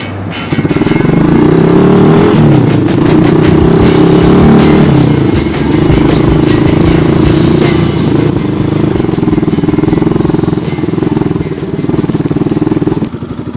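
A motorcycle engine idles loudly and steadily nearby, a continuous rough drone with occasional clattering, running the whole time without speech.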